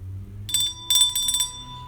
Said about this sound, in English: Ring that bell for Ketel.